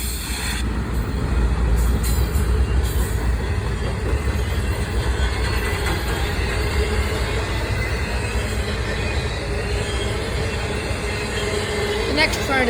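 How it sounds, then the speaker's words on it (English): A short Norfolk Southern intermodal freight train rolls past at slow speed, giving a steady loud rumble with wheel clatter and faint squeals, and a voice talks briefly near the start. "Short NS intermodal train here."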